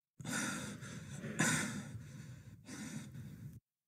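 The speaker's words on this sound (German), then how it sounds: "Der Mann keucht." A man pants heavily and hoarsely in a German audio drama crime story, with repeated loud, ragged breaths and one sharp gasp in a close-miked, continuous stretch of about three seconds with no talking.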